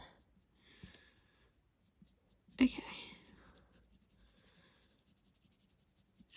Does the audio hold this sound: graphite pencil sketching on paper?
yes